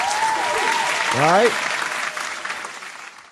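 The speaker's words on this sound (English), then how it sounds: "We got to give you a clap too." Brief burst of audience applause in a talk-show setting, a short patter of clapping beneath a voice speaking over it.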